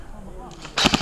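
Airsoft guns fire during a game at Halo Mill, with a couple of quick, sharp, close pops in rapid succession at the end after a quieter moment.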